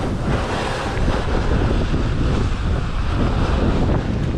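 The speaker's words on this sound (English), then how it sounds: "The wind's kind of blowing" Strong wind roars across a frozen lake in Lake Itasca's open winter setting, a continuous loud rushing buffet with no speech.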